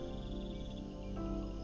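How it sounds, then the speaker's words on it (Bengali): Crickets chirp in a steady, continuous high drone in a West Bengal village at night, faint and even, with no voices. "ঝিঝি পোকার আওয়াজ"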